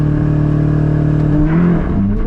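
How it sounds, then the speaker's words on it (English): A C8 Corvette Z06 launches hard from a standstill on a cold day, its engine droning loud and close, then rising in pitch as it accelerates through a short burst. "Let's go up in the Corvette. All right, 0 to 60 engaged."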